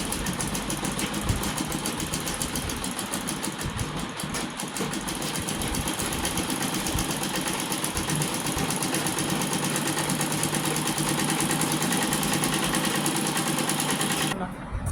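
A sewing machine runs steadily for the whole stretch, stitching an embroidered neckline with a continuous close whirring drone that stops abruptly at the end.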